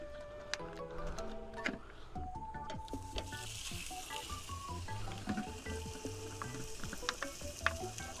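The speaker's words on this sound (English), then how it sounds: "We're going to sizzle them off." Cheese and onion baps sizzle and crackle in a hot frying pan, a steady close fizz with scattered pops and clicks running continuously, with no one speaking.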